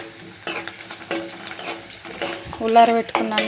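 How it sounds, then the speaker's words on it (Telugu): Cooked rice being stirred into a tempering of fried onion, dried red chili, mustard seeds and cumin, a scraping, shuffling stir with light sizzling in the pan, fairly close, and a few brief metallic clinks of a spoon against the pot. "ఉల్లిగడ్డ, ఎండుమిర్చి, ఆవాలు, జీలకర్ర వేసి అవి గోలిన తర్వాత ఈ ఉల్లారబెట్టుకున్న అన్నం"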